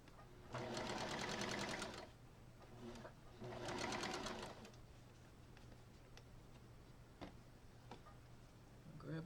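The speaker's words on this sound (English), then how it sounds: "I'll just do that as I sew" A sewing machine stitching fabric in two short quick bursts, fairly quiet and close, followed by softer ticking and handling sounds.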